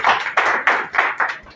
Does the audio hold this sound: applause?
yes